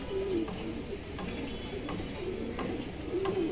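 Khaki pigeons, an adult pair kept for flying, give repeated soft cooing calls nearby, several low rolling coos spaced across the stretch, over a constant background hiss.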